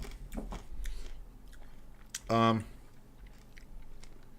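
Chewing an Indonesian candy up close, soft mouth sounds followed by one short crisp crunching bite, with quiet room noise around it.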